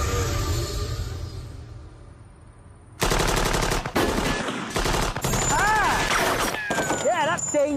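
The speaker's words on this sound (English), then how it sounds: "50 cal machine gun. Those are the bullets." A .50 calibre machine gun fires in loud, rapid bursts of overlapping shots, punctuated by brief pauses. Ambient noise sits underneath, with chirping, whistling tones between bursts, and speech may occur nearby.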